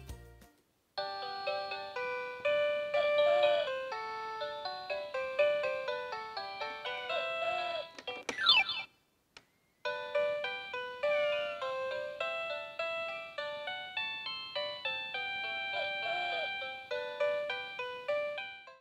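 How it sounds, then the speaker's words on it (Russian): A two-page toy book on an interactive activity cube plays bright electronic melodies and funny sound effects, two tune segments split by a short pause, clear and alone. "Двухстраничная книга с забавными звуками и мелодиями."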